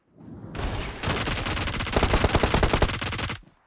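Rapid automatic gunfire in the mobile battle royale game PUBG Mobile, a loud dense stream of shots that starts after a brief rising noise and hammers on for about three seconds before cutting off.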